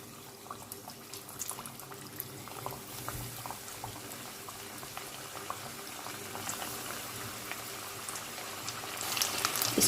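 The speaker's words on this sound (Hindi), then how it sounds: "अब मैं इसको फ्राई कर लूँगी। ऑयल यहाँ पर गर्म हो चुका है" Coated KFC-style chicken tenders frying in hot oil over a medium flame, with a steady, dense crackling sizzle that runs throughout and grows slightly louder at the end; no talking.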